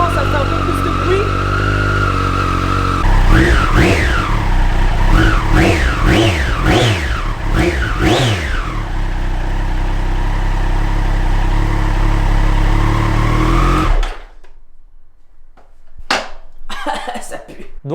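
Triumph Street Triple motorcycle engine idling loudly after a cold start, with a run of sharp throttle blips in the middle, then the engine cuts off abruptly into near silence.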